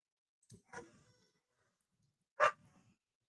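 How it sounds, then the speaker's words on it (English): A dog barks a few times with short gaps, sharp and somewhat distant, in otherwise quiet surroundings. "Somebody's here and my dogs are excited."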